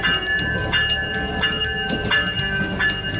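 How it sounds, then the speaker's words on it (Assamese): A freight train from Bangladesh arrives at Nischintapur station in Tripura, rolling past with a steady rumble, metallic clanks and a regular beat of wheel clatter, loud and near. "বাংলাদেশৰ গংগানগৰৰ পৰা যাত্ৰা আৰম্ভ কৰা ৰেলখনে ত্ৰিপুৰাৰ নিশ্চিন্তপুৰ ৰেল ষ্টেচনলৈ চলিল"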